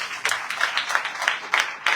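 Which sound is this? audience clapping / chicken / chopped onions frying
audience clapping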